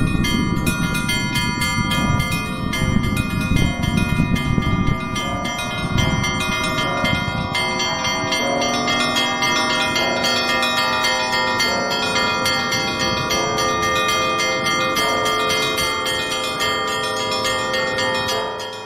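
Church bells from a bell-ringing school ring in a continuous peal, with layered sustained chimes overlapping steadily at close range for the full length, with no talking.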